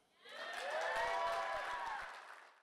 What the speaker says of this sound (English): Big applause for Misty, please.